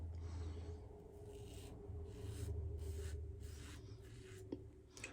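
A Muhle R41 safety razor scrapes across wet facial hair during a shave, a faint, close rasping repeated in short strokes about every half second, over a quiet hum, with no talking.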